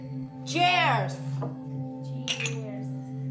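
Drinking glasses clink together in a birthday toast, a bright ringing tap amid cheerful voices and a steady background hum, with a second lighter clink shortly after.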